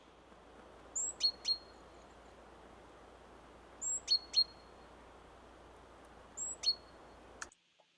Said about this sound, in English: here's just a background piece with some birds in it